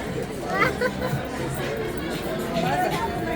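Low crowd chatter as someone walks through a crowd: many overlapping voices form a steady babble, with a few clearer voices coming through up close.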